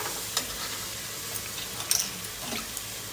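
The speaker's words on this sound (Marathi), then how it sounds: "चांगला मसाला चांगला मसाला भाजून घेतला." Masala spice mix frying in a pan hisses in a steady, fairly loud sizzle, with a few soft stirring scrapes and clicks on top and no talking.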